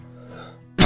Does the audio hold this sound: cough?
yes